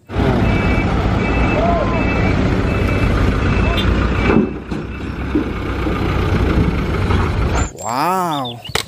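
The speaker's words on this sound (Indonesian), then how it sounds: "Ada dump truk teman-teman atau truk pasir." A toy dump truck sounds a steady series of evenly spaced reversing beeps over a loud engine rumble, ending in a warbling siren-like tone.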